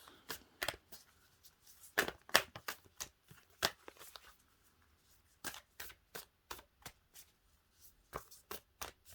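A deck of tarot cards being shuffled by hand. Close, crisp bursts of riffling and slapping come in irregular clusters, separated by brief pauses.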